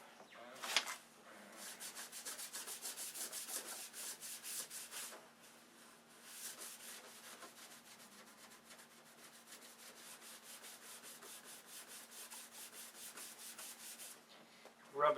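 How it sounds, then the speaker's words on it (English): A towel rubbed back and forth over painted trim to knock off paint nibs gives a soft, steady scrubbing rasp in long repeated strokes, close and fairly quiet, with brief pauses between passes. "Rub a towel back and forth"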